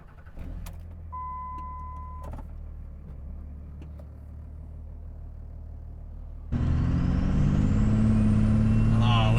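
A Ram 2500 Cummins diesel pickup with 998,000 miles idles low and steady after glow-plug warm-up, then catches and roars louder with a gruff, clattering rumble near the end, close by.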